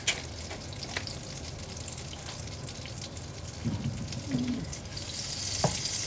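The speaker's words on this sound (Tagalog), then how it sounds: "Hintayin lang natin matunaw ang ating butter." Butter melting into olive oil in a hot pan gives a soft, steady sizzle and light crackle, close and fairly quiet, with a brief clink partway through.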